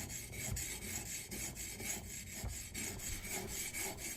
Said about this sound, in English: I'm also just gonna give it a little sharpening too while I'm at it